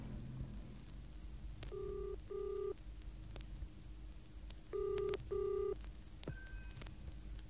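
A public phone box telephone is dialed, giving two pairs of short steady tone bursts separated by a pause, with faint clicks, a low background hum and a brief higher tone at the end.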